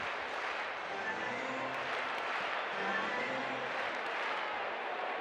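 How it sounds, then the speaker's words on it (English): A big Friday night crowd at Petco Park in San Diego for a White Sox versus Padres baseball game makes a steady, distant wash of murmur and cheering, with faint voices beneath the din. "Big crowd here at Petco Park on Friday night in San Diego."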